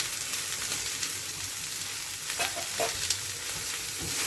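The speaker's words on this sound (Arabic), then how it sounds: "نديها كده تشويحه مع البصله حلوه وجميله" Minced meat stir-fried with onions in a pan, a steady close sizzle and hiss throughout with occasional scraping stirs, no talking.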